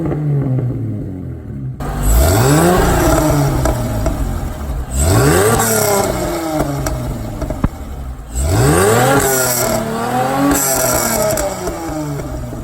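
The old exhaust on a supercharged V6 Toyota MR2 is revved three times. Each rev swells to a raspy, rising roar with supercharger whine, then falls back to a rumbling idle. The car is close and there is no talk.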